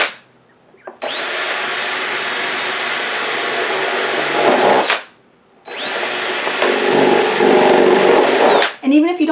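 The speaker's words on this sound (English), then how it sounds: "So you want to drill holes in the bottom and be very gentle with it" Two long bursts of a high-pitched power drill whirring steadily as it bores holes in the bottom of a plastic container, separated by a short pause, loud and close, each ending abruptly.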